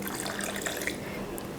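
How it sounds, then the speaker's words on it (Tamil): Water poured into a pot of paruppu rasam mixed with dal, tamarind and tomato: a soft, faint trickle that ends in a sudden loud splash. "ரசத்துக்கு கொஞ்சம் தண்ணி சேர்த்துக்கலாம்."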